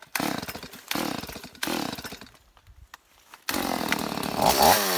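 A chainsaw cuts wood in close, loud bursts, revving hard three times with brief drops between, then easing to a low idle before roaring back into a sustained cut.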